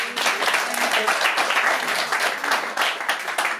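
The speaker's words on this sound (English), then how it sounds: "round of applause, I reckon." Brief burst of clapping from a small group, steady and close for a few seconds, with a voice speaking over it.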